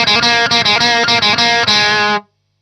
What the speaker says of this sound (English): So the intro solo up to speed sounds like this.